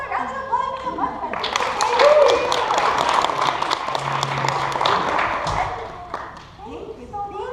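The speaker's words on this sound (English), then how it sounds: "Let's have a round of applause for the muskrat." A theatre audience at a Turtle Island stage performance gives a round of applause that swells to a dense peak and tapers off, with voices and a few thumps heard under the clapping.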